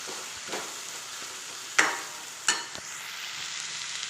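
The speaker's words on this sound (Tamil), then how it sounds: "இது அப்படியே நல்லா எண்ணெயிலே வதக்கி விடுங்க." Chili powder sautéing in hot oil for a neem flower kuzhambu gives a steady, faint sizzle, broken by a few sharp clicks from the stirring spoon.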